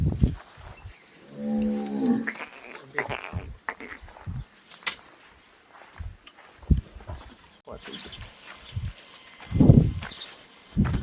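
Gir cattle at a cow shelter on a farm, with several loud moos rising from the herd against steady background noise, plus scattered footsteps and clatter nearby.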